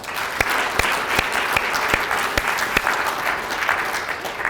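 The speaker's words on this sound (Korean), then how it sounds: "이분들한테 박수 한번 보내주시기 바랍니다." A seated crowd at a regional meeting applauds steadily, a full wash of clapping with several sharp, prominent individual claps standing out near the front.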